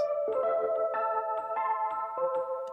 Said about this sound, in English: You'll start to hear stuff that just sounds like it has Kramer tape on it.